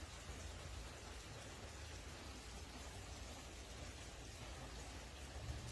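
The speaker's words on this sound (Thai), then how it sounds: "ฝนตกหนักมาก ทั้งคืนเลย" Heavy rain pouring down in a steady, dense hiss that stays even throughout, with no voices over it.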